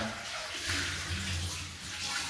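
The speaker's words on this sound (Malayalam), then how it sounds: "പാത്രങ്ങളൊക്കെ കഴുകി" Steady running water splashes continuously, with low clattering underneath, like dishes being rinsed under a tap; no voices.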